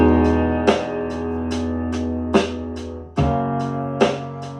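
A simple loop of two sustained chords, with no bass part, plays over a light drum pattern whose hits land every beat or so, clear and fairly loud.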